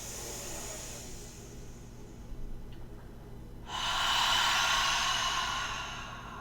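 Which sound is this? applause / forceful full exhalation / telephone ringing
forceful full exhalation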